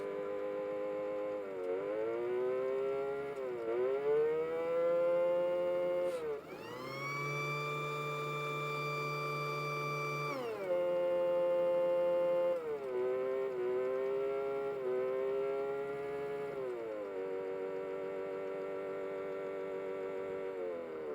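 An electronic siren from a 1978 Revell toy paramedic van wails continuously, its pitch sliding and switching between tones, with a buzzy mechanical hum underneath and no voices.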